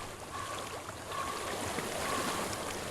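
Flowing water in Hellblade: Senua's Sacrifice, a soft steady stream trickling continuously beneath faint tonal ambience, no speech.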